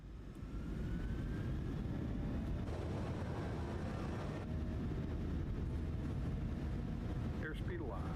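Boeing 737-800 jet engines spooling to takeoff thrust in a flight simulator, a steady, fairly quiet broadband roar that swells after the first second and holds evenly to the end, with a few faint tonal whines on top.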